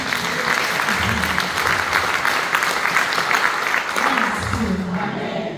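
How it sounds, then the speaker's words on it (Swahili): A church congregation claps for Jesus, with dense, steady applause that holds loud and continuous throughout. "Bwana Yesu makofi"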